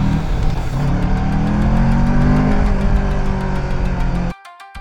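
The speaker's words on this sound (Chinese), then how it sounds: "另外这个车声音也蛮好听的，我记得它跟力650 RS 这个声音好像是差不多的。" A Kawasaki Ninja 650 twin-cylinder motorcycle pulls hard with a loud, smooth engine drone that climbs in pitch as it accelerates, heard close on a sunny street, then cuts off sharply near the end.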